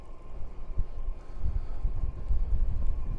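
Strong gusting wind buffets the microphone while riding a Juiced Scorpion e-bike outdoors, a steady low roar with rising and falling gusts and no talking.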